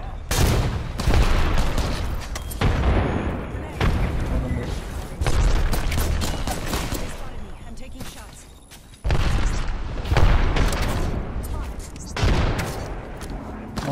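Grenades detonate repeatedly in a firefight in Apex Legends, a run of loud booms and gunfire bursts spread across the span, with players talking over them.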